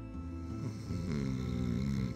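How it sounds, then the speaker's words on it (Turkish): A person snoring in bed at night gives a steady, rasping drone that continues without a break, close and fairly loud, with no talking over it. "Sabaha kadar böyle horlamayacak değil mi"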